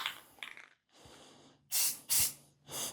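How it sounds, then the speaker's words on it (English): Short hissing bursts of a spray paint can on old shoes, three loud sprays following softer breathy noises, close up. "let's spray"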